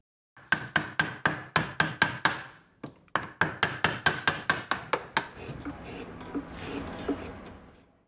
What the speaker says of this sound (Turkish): Sonrasında heykeltıraş çeşitli ölçülerdeki keski gibi daha ince aletleri kullanarak devam eder.